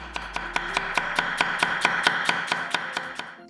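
A knife shreds cabbage into thin 0.2 cm strips on a cutting board, a rapid, steady run of about fifteen crisp chops, close and fairly quiet, with no talking.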